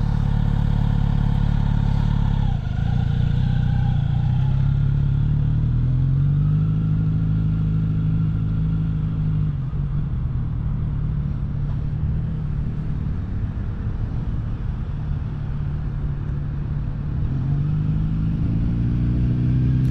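A 2023 Kawasaki Z900RS Café motorcycle ridden at slow speed during training, its engine burbling loudly and close with rising and falling revs, clattery throttle blips and a dip near the start, no talking over it.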